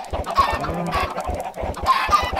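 Minecraft chickens cluck in a steady run of short, clipped game-sound calls, fairly loud and close, with no talking.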